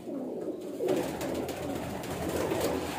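Several pigeons coo in a low, continuous murmuring chorus close by, with soft rustling over the steady burble and no voices.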